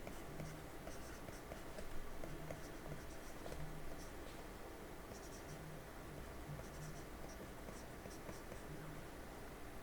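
Faint scratchy strokes of an equation being written by hand during a logistic regression lecture, soft rhythmic pen-on-surface scraping over a low background hiss with no speech.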